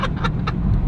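BMW M2 F87 with a new intake accelerating, its engine a steady close rumble with a few sharp rasping pulses over a brief moment.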